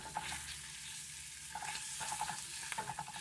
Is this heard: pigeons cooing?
no